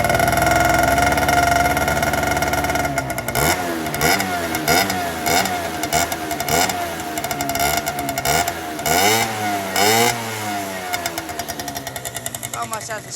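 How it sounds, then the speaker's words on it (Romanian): A small engine idles with a steady hum, then revs gently in a series of short throttle blips that rise and fall rhythmically, loud and close, with no muffling material in its exhaust. "Și să facem un mic test, cum se aude. Deci să vede că am joc în accelerație. Ușor de tot să-l ambalăm."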